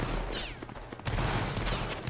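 Musket volley fire in a battle video game: a dense ragged crackle of many shots, with a second burst swelling about a second in, loud and continuous with no voices.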